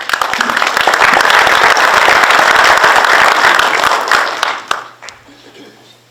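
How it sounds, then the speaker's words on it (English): A full audience round of applause at a standards summit fills the room loudly, then tapers off into scattered claps and quiet near the end. "So I'd like you to give them a round of applause"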